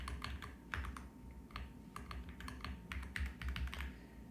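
A computer keyboard is typed on steadily with quick, close, quiet clicks in an uneven rhythm, under a low background hum and with no voices.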